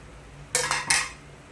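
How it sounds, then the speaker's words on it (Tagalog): Water spinach (kangkong) is dropped into a pot of sinigang na sardinas, making two short clattering, rustling bursts of leaves and metal close by, with no talking. "ilalagay ko na po ang kangkong"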